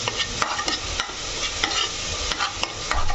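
Onions sizzle steadily in a hot pan as they fry, with sharp crackles and pops breaking through the continuous hiss and stirring scrapes now and then. No voices.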